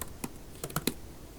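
Someone types on a computer keyboard with a few sharp, irregular key clicks in a short burst, close and clear over a quiet background.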